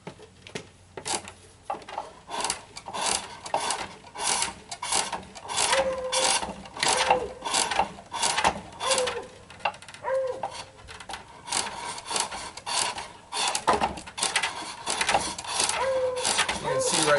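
Wood stock is turned on a foot-powered springpole lathe, with rhythmic scraping cuts that rise and fall at about one stroke per second, alternating with the creak and thump of the treadle and spring pole.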